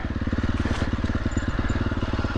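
A motorcycle engine pulling slowly in first gear on a rough mountain pass, a loud, close, steady rhythmic thumping putter that runs throughout without a break.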